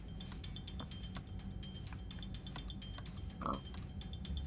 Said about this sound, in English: Pig. I don't want to hear it.